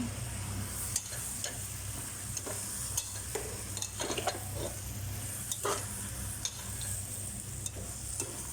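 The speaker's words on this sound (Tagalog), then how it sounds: "Tapos isunod ko na ang lady finger. Lagay ko na lahat Tapos haluin ng haluin." Okra and mixed vegetables being stirred in a frying pan, a steady sizzle beneath scattered scrapes and clinks of the utensil against the pan, no talking.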